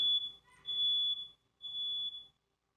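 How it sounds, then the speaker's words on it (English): Two long beeping bursts from a smoke or fire alarm, each lasting under a second with a brief gap between, sound clearly indoors while nobody speaks. "sorry, it was a fire alarm."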